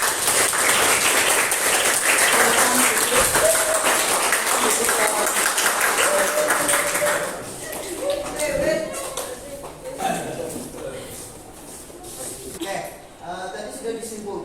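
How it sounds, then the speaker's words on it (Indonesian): A classroom audience applauds a student group after its presentation, with dense, steady clapping that fills the room for several seconds before thinning into scattered claps and murmuring voices. "Aplaus atau tepuk tangan untuk kelompok 1 yang telah mempresentasikan."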